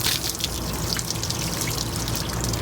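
Water gushes steadily from the drain opening of an RV water heater during anode rod replacement, a continuous close splashing trickle with no voices.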